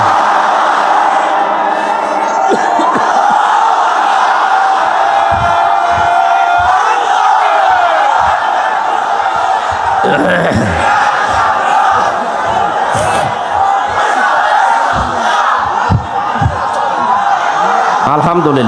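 A large crowd at a religious gathering in Pabna, Bangladesh roars a takbir response, loud massed shouting and cheering that carries throughout with no quiet gaps.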